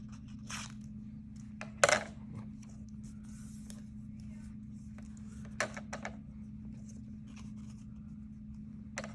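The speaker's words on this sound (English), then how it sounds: "Okay, so just cut a couple strips." Scissors cut paper strips for a mosaic jack-o'-lantern, a few quiet, sharp snips spaced apart, one louder near the start, against a steady low hum.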